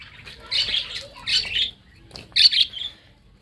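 Bursts of harsh squawking and chirping from several birds close by, coming in three short flurries with quieter pauses between.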